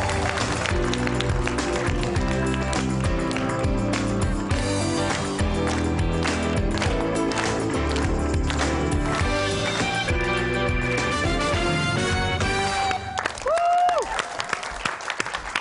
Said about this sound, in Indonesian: Sekarang bantu saya berikan tepuk tangan meriah untuk Muhammad Hinaya